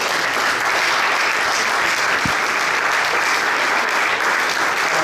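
An audience at a mayoral candidates forum breaks into loud, sustained applause, a thick continuous roar of many hands clapping close by, with a single sharp knock partway through.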